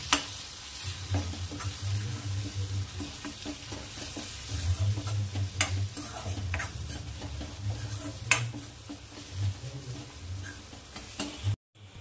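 Asafoetida tempering for farsan bhaji is stirred in a hot pan, with a steady oil sizzle and repeated scraping strokes of the spoon for about twelve seconds, close and moderately loud, with no talk.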